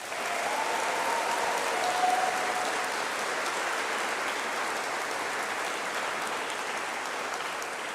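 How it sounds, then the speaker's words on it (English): Dense, steady applause from a graduation ceremony audience fills the hall, even and continuous from start to finish with no talk over it. "I would like everyone to give her another round of applause."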